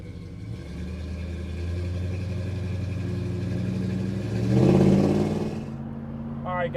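A 1978 Ford F250 Ranger truck engine rumbles steadily while driving, a low continuous drone that swells into a louder rev before easing off, with a brief higher sound at the end.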